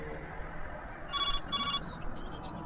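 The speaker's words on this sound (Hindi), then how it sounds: "तभी मेरा फोन बजा।" A phone rings with short electronic tones in two bursts over a steady background hum.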